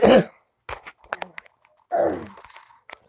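Several harsh, throaty coughs, a loud burst at the start and another a couple of seconds later, with small scrapes and clicks in between.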